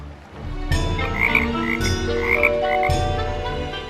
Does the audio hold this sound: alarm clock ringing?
no